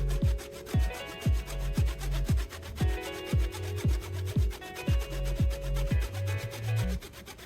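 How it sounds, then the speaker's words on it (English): A tenon saw cuts through wood in quick, steady back-and-forth strokes, each rasping pass close and distinct, with no voices. "Use the tenon saw to saw down to the marked depth"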